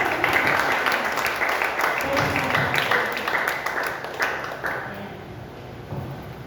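A church congregation applauds together during a worship service, a steady wash of clapping that holds at an even level throughout.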